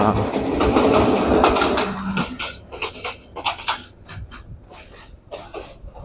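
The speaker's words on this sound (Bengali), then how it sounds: "ট্রেন আসতেছে, ট্রেন ট্রেন ট্রেন" A train on the Mymensingh line clatters past close by, loud rumble fading into a series of rhythmic clanks and clicks as the carriages roll away.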